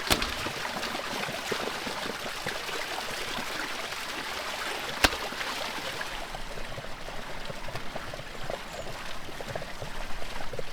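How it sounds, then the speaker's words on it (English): Water runs and splashes steadily at an outdoor well while tongues are rinsed, giving a continuous close trickle and pour with one sharp knock midway. "I'm giving the tongues a thorough rinse at the well."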